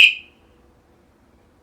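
A motorcycle alarm on a TZR lets out one short, loud beep as it locks by remote, then falls silent.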